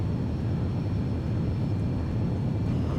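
A jetliner on its takeoff roll in X-Plane 11, a loud, steady low engine roar droning without a break throughout.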